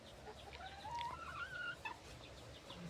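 Native chickens clucking in a small pen, several hens giving short rising and falling calls one after another, fairly close, over a low steady background.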